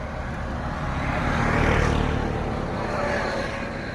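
A Royal Enfield motorcycle on the road gives off a steady, close engine rumble blended with wind roar, swelling slightly midway, with no voices.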